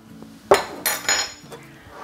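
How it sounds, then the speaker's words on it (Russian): Radish salad dressed with wine vinegar and soy sauce is tossed in a bowl, with a few close clinks and scrapes of a utensil against the dish over about two seconds. "Перемешиваем салат"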